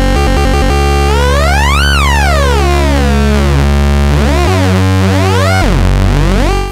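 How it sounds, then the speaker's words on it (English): A Moog Slim Phatty synthesizer plays two oscillators in sync with everything else wide open, giving loud, buzzy, harmonically rich tones that sweep up and down in pitch. "this is just the two oscillators in sync, everything else wide open, nothing else going on"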